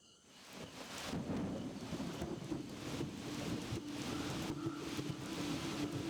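Monsoon thunderstorm with heavy rain pouring down steadily, a deep thunder rumble swelling from the start and holding as a continuous loud roar of rain and wind for several seconds.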